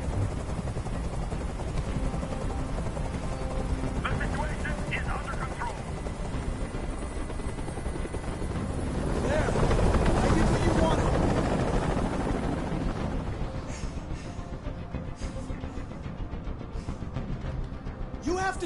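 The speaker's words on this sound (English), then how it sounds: "Tell that helicopter to get out of here!" In the Detroit: Become Human hostage scene, a helicopter drones steadily overhead, swelling louder midway before easing back, while characters talk over it.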